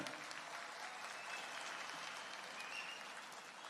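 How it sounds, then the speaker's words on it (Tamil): Crowd at a BJP political conference stage event in Kumbakonam breaks into sustained, dense applause, steady and loud throughout with no pauses. "எல்லாரும் ஓங்கி நல்ல கைத்தட்டலாமே"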